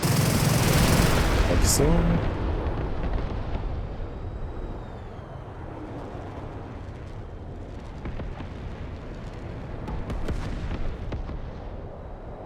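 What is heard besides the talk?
rockets fired from a jet in the Metalstorm video game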